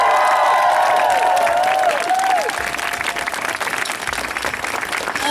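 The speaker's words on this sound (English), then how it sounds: "Give her a round of applause." A crowd at a street demonstration for Child Q applauds with sustained clapping, mixed at first with a few high cheers and whoops that fade out, leaving steady clapping.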